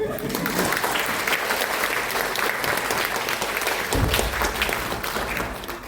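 Sustained applause from a theatre audience at the end of a stage performance in the Akhalkalaki Palace of Culture, dense and steady clapping throughout, with a slight swell near the end.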